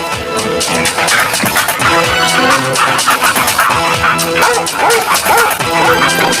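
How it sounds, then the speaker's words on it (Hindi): A dog chases a man carrying water in a comedy cartoon, with loud yapping and scrabbling against busy background music that runs throughout. "अगले दिन जब गेंदा सेठ पानी भरकर वापस आ रहा था, तब उसके पीछे कुत्ता पड़ गया।"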